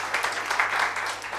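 A studio audience at a TV show claps briefly, a dense, even patter of many hands at moderate volume.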